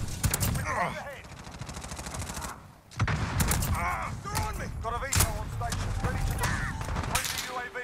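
Gunfire in the first-person shooter Modern Warfare crackles in bursts over dense game sound and background music, with a short lull midway before the shooting resumes.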